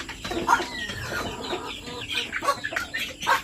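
A group of native chickens crossed with Plymouth Rock, fourteen head being prepared for transport, give soft, scattered clucks and short calls close by, with no one speaking.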